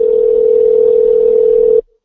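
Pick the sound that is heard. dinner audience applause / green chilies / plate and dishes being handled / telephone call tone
telephone call tone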